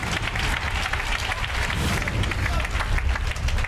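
Church congregation applauding and cheering in acclaim of God during a Sunday evangelical service, a dense, steady wash of clapping and crowd noise that stays loud and even throughout.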